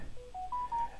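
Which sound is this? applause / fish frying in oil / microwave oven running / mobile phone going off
mobile phone going off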